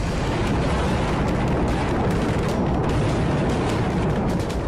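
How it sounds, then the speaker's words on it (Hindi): Heavy Israeli artillery fire in southern Lebanon, heard as a dense, continuous roar of rumbling blasts and booms that stays loud and unbroken throughout, with no voices. "ग्राउंड ऑपरेशन के लिए रास्ता बनाने के लिए हैवी आर्टिलरी फायरिंग इजरायली सेना कर रही है।"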